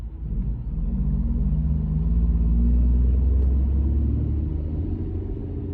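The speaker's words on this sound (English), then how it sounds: "This traffic is crazy." Road traffic rumbles past outside, a low steady engine drone from cars that swells and fades slightly over several seconds, heard from inside a vehicle with no talking.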